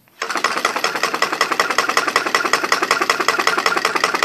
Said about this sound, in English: Alright, now the Stirling engine is running on just a heat source from the three candles.